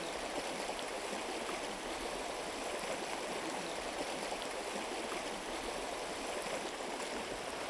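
A river current rushes steadily around someone wading across, a continuous close wash of flowing water with no voices.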